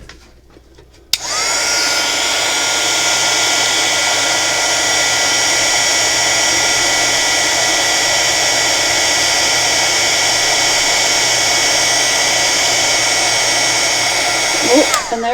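A heat tool switches on with a sudden click and blows a steady, loud whooshing hum while heating quick cure clay, running unbroken for over ten seconds before cutting off.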